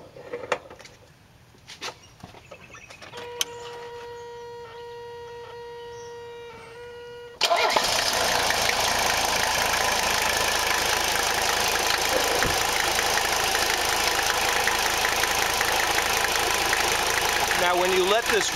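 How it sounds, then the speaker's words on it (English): A Mercedes turbodiesel engine cranks and catches after several seconds of quiet clicks and a steady electronic tone, then settles into a loud, constant idle that holds to the end. "We're going to start the engine."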